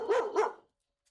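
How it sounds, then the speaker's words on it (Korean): A Pungsan dog gives two sharp, loud barks in quick succession, close by, then falls silent. "복실이 짖는 소리에 예민해요"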